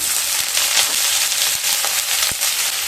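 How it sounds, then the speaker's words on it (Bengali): Chopped garlic cloves and sliced onions fry in hot oil for stuffed bitter gourd, giving a steady close-up crackling hiss with a few soft knocks of stirring. "দিয়ে পেঁয়াজ আর রসুনকে খুব ভালো মতো ভেজে নেব"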